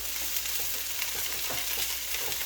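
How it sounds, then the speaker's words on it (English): Bean sprouts frying in a hot pan, a steady close sizzle and crackle with small pops throughout, alone. "Okay, so fry this up."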